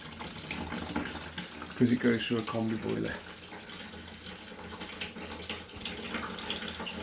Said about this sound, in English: changing the bathroom tap upstairs, absolutely pouring out